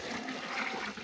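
Water poured into a cooking pot for a vegetable Chinese rice recipe, a brief steady rushing splash heard up close with no talking over it.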